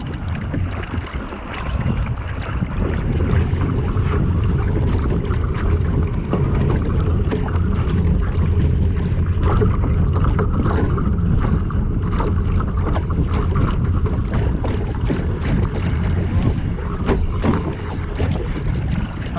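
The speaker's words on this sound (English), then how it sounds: "I'm sailing off the wind now on about a beam reach, and probably one of the faster clips of sailing right here." A sailboat running fast off the wind on a beam reach, with steady loud rushing of water along the hull and heavy wind buffeting throughout, no talking.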